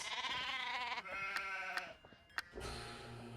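A sheep in the Nancy Drew game The Haunting of Castle Malloy bleats in a long wavering call, followed by a few shorter bleats, close and clear with no talking.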